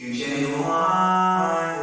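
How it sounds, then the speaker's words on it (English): A sustained sung vocal washed in heavy, loud reverb, the tone smearing and hanging in a long echoing tail. "get that loud reverb sound you want"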